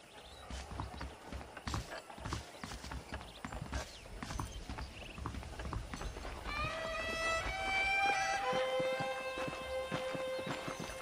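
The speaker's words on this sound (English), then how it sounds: "The horses are saddled up over here." Saddled horses clip-clopping in the Western video game Red Dead Redemption, steady hoofbeats with a brief whinny near the end, heard up close without speech.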